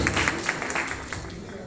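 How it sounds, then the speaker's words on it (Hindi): An audience at a live fashion show claps in a steady, moderately loud patter of applause, with scattered louder claps rising above a busy background. "प्लीज जोरदार तालियां।"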